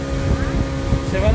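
A motorboat ride off Puerto El Triunfo, Usulután, El Salvador, with a continuous droning outboard engine and rushing wind on the microphone, while people talk over the noise close by.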